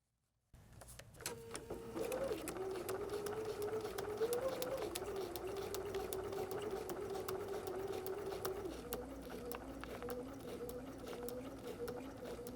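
A sewing machine runs steadily through a seam of foundation paper piecing, a close, continuous motor whir with a rapid needle tick that starts abruptly and holds for over ten seconds.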